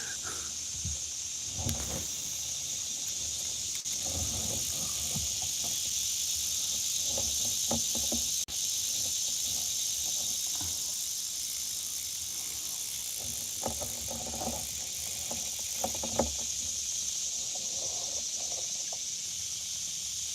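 Cicadas buzz in a steady, loud drone beside a river where someone is kayaking and fishing for pan fish, with faint splashes and knocks now and then.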